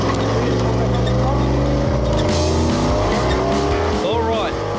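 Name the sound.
race car accelerating in Finke Desert Race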